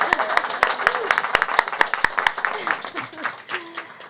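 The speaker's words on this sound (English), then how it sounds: "Can we get a round of applause for this audience?" An audience at an event on soil health claps, with loud, evenly spaced claps from one nearby person standing out over scattered clapping and cheerful voices.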